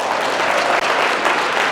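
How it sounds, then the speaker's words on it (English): Applause from a conference audience, dense and steady for under two seconds, with a brief gap near the middle and no voices standing out. "Well, give yourselves a round of applause."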